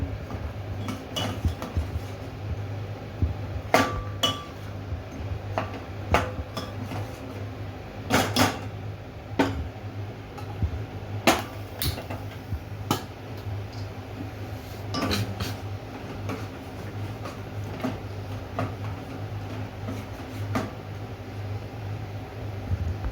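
A spoon stirs jaggery into a pot of rice pudding (nolen gur payesh), making repeated sharp metallic scrapes and clinks against the pot at an irregular pace, close and clear over a low steady hum.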